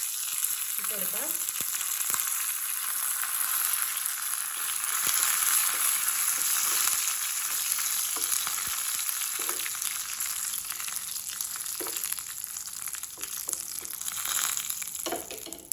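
Dried red chillies and curry leaves sizzle steadily in hot oil for a beetroot pachadi tempering, a loud continuous frying hiss with occasional stirring clinks and scrapes, no talking.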